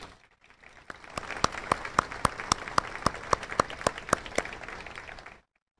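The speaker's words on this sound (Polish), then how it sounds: "Powitajmy szczególnie gorąco oklaskami dzisiejszych laureatów." An audience at a Łódź city award ceremony applauds the laureates with steady, evenly spaced claps that build for about five seconds, then stop abruptly, leaving near silence.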